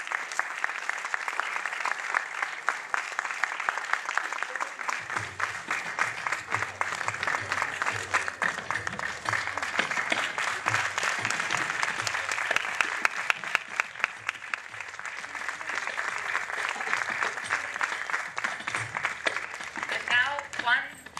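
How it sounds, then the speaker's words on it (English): An audience applauds honored male gurus at a felicitation ceremony, dense sustained clapping running for about twenty seconds, steady and loud, with some crowd voices mixed in. "round of applause for these wonderful, wonderful people"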